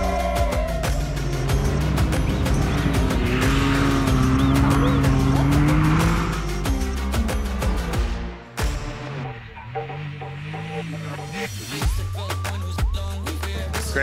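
Adapted cars drifting on a snow track: engines rev hard and whine, tires squeal and hiss through long slides, then the revs drop and pick up again, loud and close.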